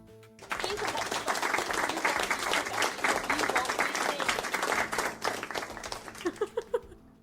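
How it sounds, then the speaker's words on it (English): Sustained applause from a crowd in The Bachelor DS video game, dense clapping that swells in and holds steady for several seconds before thinning to a few scattered claps at the end. "I don't feel like I deserve that applause."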